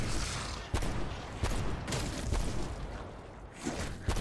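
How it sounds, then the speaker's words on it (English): Sharp gunshots from Call of Duty: Black Ops Cold War, fired singly and spaced irregularly over a steady game background, each crack loud and close. "let me see if we can shoot him in the foot"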